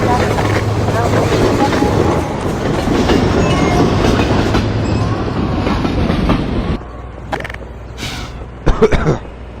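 A train in the video game Half-Life 2 rumbles past with steady clickety-clack of wheels on rails, loud and continuous, then fades to quieter bursts of clatter near the end.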